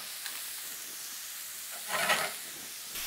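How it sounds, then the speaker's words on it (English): Beef patties cook in a hot pan with no oil, giving a soft steady sizzle and hiss that swells briefly louder for a moment before settling back, with no talk. "These are going to sizzle away for a couple of minutes on each side."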